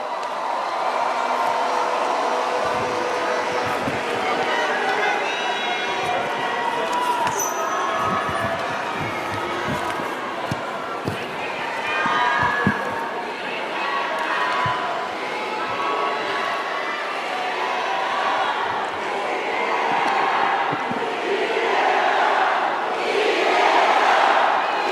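Large crowd cheering, shouting and applauding at a Democratic Party national members' convention just before the party leader's acceptance speech, a dense, loud, continuous roar of voices and clapping that swells toward the end.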